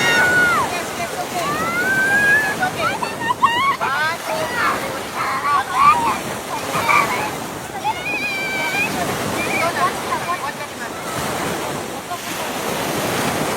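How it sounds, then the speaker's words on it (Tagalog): Heavy surf roars and crashes continuously nearby on a beach in Elyu (La Union), mixed with wind buffeting the microphone, while voices chatter over the waves. "grabe talaga yung hampas ng alon dito"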